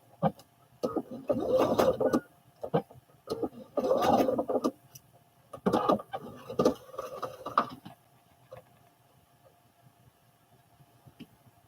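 A home sewing machine stitches a seam on McCall's 7464 overalls with a low bobbin, running in several short bursts of rapid mechanical clatter separated by pauses, then falling quiet.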